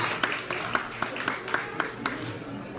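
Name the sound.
audience applause for open mic newcomers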